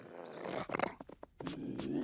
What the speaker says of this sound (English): It's a cougar.